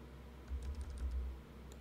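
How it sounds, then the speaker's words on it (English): Soft, rapid keyboard tapping in a short burst, faint and close, with a quiet hum underneath and no speech. "you can start just typing in amounts"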